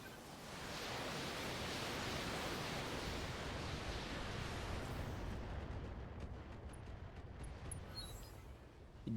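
A BattleTech missile salvo roars as one long, steady wall of hissing rocket noise lasting several seconds, then thins out into a scatter of faint crackling impacts.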